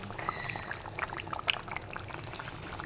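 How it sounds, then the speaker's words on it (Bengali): Ghee being poured into a simmering potato curry gives a soft liquid trickle with light bubbling and small sizzling pops, fairly close and quiet. "আমি দিয়ে দিচ্ছি এর মধ্যে ঘি আর দিয়ে দেবো আমি গরম মশলা"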